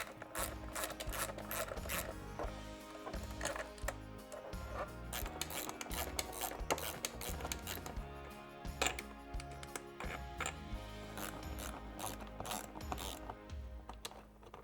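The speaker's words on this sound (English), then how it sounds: "We'll remove these 3 bolts." A ratchet cranks bolts out of the door of a Can-Am Maverick X3, giving rapid repeated clicking strokes with metallic rubbing and small knocks, close and fairly quiet throughout with no talk.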